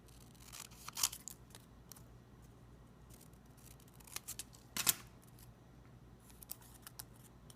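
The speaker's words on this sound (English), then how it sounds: "you're going to fold it in half and you're going to cut. So with your scissors" Scissors make a few faint, quiet snips and crisp cuts through folded rubber loom bands up close, with small handling rustles in between.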